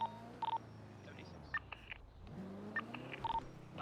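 Phone being dialed in the GTA roleplay game NoPixel, a handful of short separate keypad tones in an uneven rhythm over a low car-engine hum, fairly quiet.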